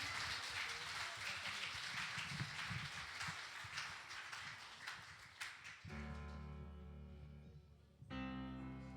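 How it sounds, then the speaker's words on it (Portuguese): A church congregation applauding during an evening worship service, a broad rain-like patter of many hands for about six seconds that gives way abruptly to sustained music. "dá a tua melhor salva de palmas para Jesus nessa noite"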